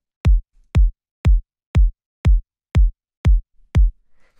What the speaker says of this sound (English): So this is the sound of kick that you hear in a lot of these tracks.